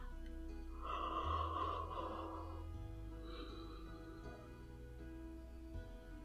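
A narrator voice imitates a big, drawn-out yawn, rising into a breathy open-mouthed exhale that tails off, close and moderately loud with a soft hum underneath.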